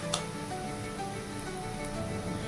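Garlic sizzles in hot oil, a steady soft crackling hiss that stays low and continuous from start to finish.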